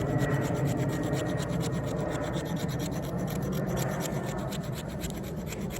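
An Eafengrow EF973 D2 steel flipper folding knife carves wood outdoors, producing a continuous close rasping, scraping rub that stays steady for several seconds.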